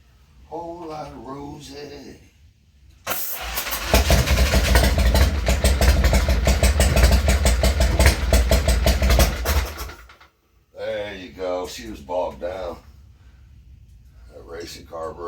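A car engine cranks and catches, running loud and steady for about seven seconds with a rough idle before cutting out, with people talking before and after.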